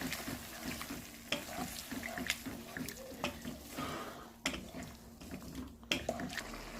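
Chicken liver sizzles in a pan after half a glass of water is added. It is stirred with repeated scraping strokes over a steady, fairly faint bubbling hiss.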